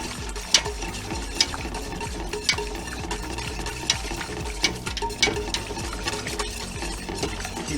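A spoon stirs macaroni and cheese sauce in a pot with steady scraping and light clicks against the sides, close and continuous with no voices.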